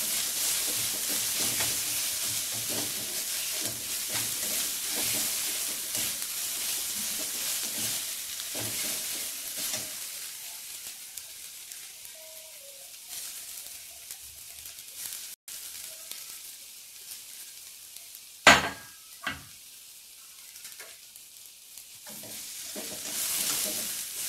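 Ginger and garlic frying in a pan, a steady close sizzle with occasional spoon scrapes and stirring knocks, fading somewhat midway, with no voices.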